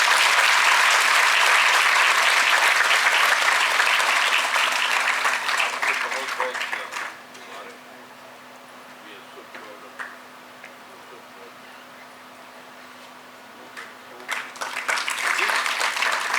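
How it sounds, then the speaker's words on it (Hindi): Loud applause at a TB-Free India felicitation ceremony at Raj Bhavan, Dehradun, rises full for several seconds, drops to a quiet room hum with a faint ticking, then returns briefly. "जोर से ताली हो जाए।"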